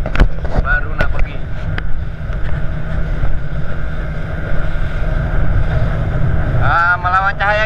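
Strong wind gusting over a small fishing boat at sea, a steady rushing roar with buffeting and occasional knocks, plus a brief engine or creak near the end.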